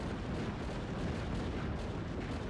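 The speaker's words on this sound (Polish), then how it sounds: "tu wszystko wybuchło" Heavy, continuous rumbling blasts and explosion noise from the PS1 game Fighting Force 2, loud and dense throughout with no pauses and no voice over it.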